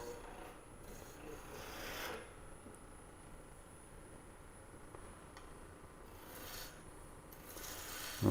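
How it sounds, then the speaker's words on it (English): A roughing gouge rounds a wooden blank for a mini hollow form on a lathe, making faint, raspy scraping bursts of cutting that come and go over a quiet, steady hum. "I don't know how many of you guys use a roughing gouge much, but this actually works pretty well."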